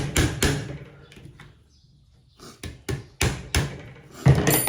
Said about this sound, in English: My little rubber hammer, just going to tap that over.